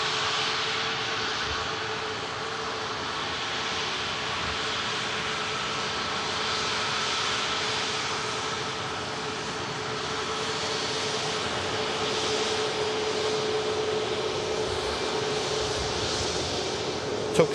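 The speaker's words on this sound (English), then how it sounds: "Next arrival is going to be a Brussels Airbus A319." A Brussels Airlines Airbus A319 jet arriving at an airport, a steady broadband engine roar holding at moderate distance throughout with little change in level.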